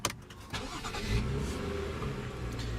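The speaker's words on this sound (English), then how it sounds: "what you're hearing there is a 3-liter 6-cylinder turbo" A 3.0-litre six-cylinder turbo engine in a 2016 BMW 535i M Sport starts up by push button, giving a short rising burst before settling into a steady nearby idle.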